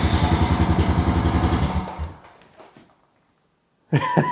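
A 2004 Honda TRX 350 ATV engine chugs in a fast, even putter after starting, then cuts out and fades to silence before a short burst of sound at the end.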